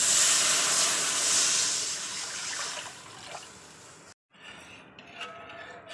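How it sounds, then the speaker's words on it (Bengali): Water poured slowly into a hot kadai, a steady hissing, steamy wash that is loud at first and gradually fades, with a brief cut near the end followed by quieter sizzling and faint clinks. "এবার কড়াইতে আস্তে আস্তে জলটা দিয়ে দেবো"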